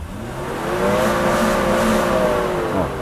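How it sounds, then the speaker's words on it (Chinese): Another rev of a Mercedes W126 300SEL engine in Park up to its 4500 rpm fuel cut: a loud, close tone climbs, holds steady with slight wavering at the limiter, then eases off near the end, with no talking. "我们来试它的转速断油 高速断油大概在4500左右"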